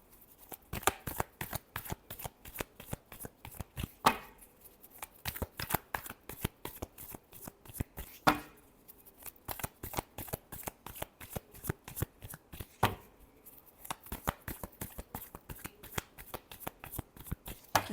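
Tarot cards are shuffled by hand in quick, steady riffling bursts, close and fairly quiet, with a few short pauses between runs and no talking.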